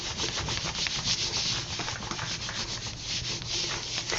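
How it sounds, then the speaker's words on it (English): Newspaper is rubbed firmly over an inked mono printing plate, a continuous close, scratchy rustling and scrubbing with a steady back-and-forth rhythm and no voices. "I'm going to lie that down over my ink and rub all over quite firmly."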